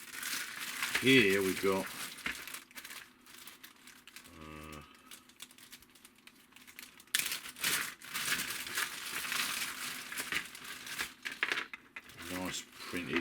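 Plastic bags being handled while a miniature wargame terrain starter kit is unpacked, giving close crinkling and rustling in bursts, with someone talking in between.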